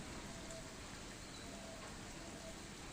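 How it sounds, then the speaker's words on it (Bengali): Bread pakoras fry in hot oil over a low flame, producing a steady, dense crackling sizzle that stays faint and even throughout, with no talking. "একদম লো ফ্লেমে এগুলোকে আমি ভেজে নেব"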